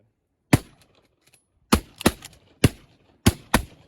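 Shotguns fire at geese over water: six sharp, loud reports with short echoing tails, a single shot followed by quick pairs and near-doubled blasts against otherwise quiet surroundings.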